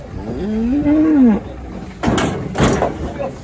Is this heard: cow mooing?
yes